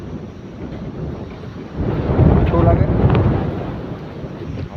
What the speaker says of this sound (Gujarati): પવન એવો છે કે સંધ્યાબેન ઉડી જાય એમ